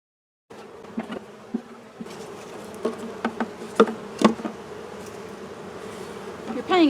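Honey bees buzz steadily around an open hive during beekeeping, a close, continuous drone with a few louder passes of individual bees flying near, rising toward the end.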